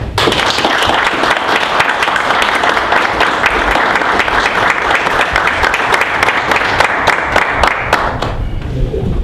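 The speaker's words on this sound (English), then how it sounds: "So I would really like to give her a huge round of applause" Loud, sustained applause from a crowd at a city council meeting, dense clapping continuing steadily for several seconds before tapering off at the end.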